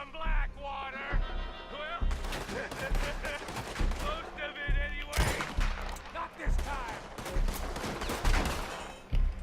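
Rapid enemy gunfire in Red Dead Redemption 2, with sustained bursts of loud shots and clustered volleys through most of the stretch and a voice talking over the shooting.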